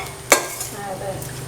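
A spoon stirs homemade chammanthi podi, a roasted coconut chutney powder, in a pan, giving one sharp clink against the metal followed by soft scraping and a faint sizzle.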